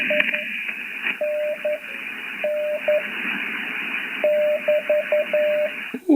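Radio reception run through a GNR-1 digital noise reduction unit with filters wide open, giving a steady band-limited hiss with repeated short electronic tones dotted through it, fairly loud and continuous.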